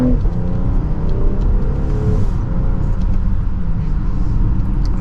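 A 2024 BMW X5 xDrive40i accelerates from second gear, its engine note rising smoothly in pitch with a quick upshift partway through, a loud steady whir heard from inside the cabin without talk.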